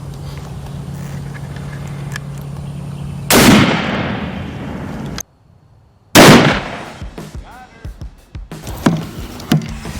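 Rifle rounds striking a body armor plate (Prime Armor) at an outdoor range: two loud, sharp, close-up cracks a few seconds apart, each followed by a ringing decay, with a brief silent gap between them and faint clatter afterward.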